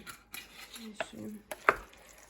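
A spoon stirs a thick bolognese sauce with tomato paste and red wine in a pot, several close scraping knocks against the metal in uneven rhythm.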